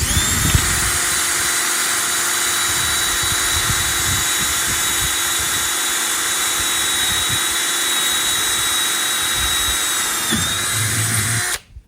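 A power drill whines loudly and steadily as the bit grinds through metal for several seconds, bending under load, then cuts off abruptly at the end.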